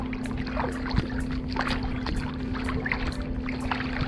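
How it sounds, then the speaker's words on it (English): Kayak paddle strokes pulling through choppy water near Egmont Key, a steady rhythm of close splashes and dips against a constant low hum, with no voices. "I'm paddling harder than normal for a long distance."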